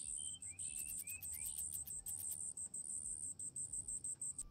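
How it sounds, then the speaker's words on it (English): Crickets chirp in tall grass in an Unreal Engine 5.1 game soundscape, a steady, pulsing trill, faint and continuous, with a few soft bird-like whistles early on. "we can hear crickets."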